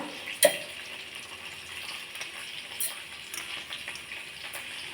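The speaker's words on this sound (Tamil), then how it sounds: "தக்காளி சேர்த்துக்கிறேன் தக்காளி வந்து நல்லா வதங்கட்டும்" Tomatoes sautéing in a pan, a soft steady sizzle with faint stirring scrapes and one sharp clink early on, heard close and alone with no talk.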